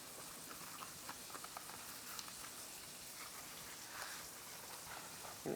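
Water at a rolling boil in a salted pot for spaghetti, a steady dense bubbling hiss that holds even throughout without pause.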